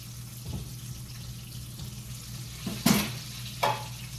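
Fish frying in a pan gives a steady low sizzle throughout, with a couple of louder bursts of spitting and stirring near the end.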